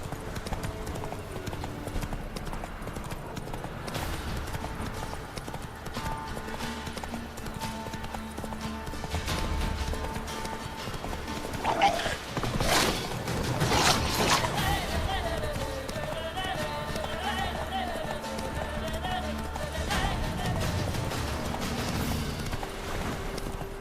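Roach, a horse in the Witcher 3 video game, gallops with steady clip-clopping hooves throughout, close and clear over a dense game soundscape with music and ambient effects, briefly louder around the middle.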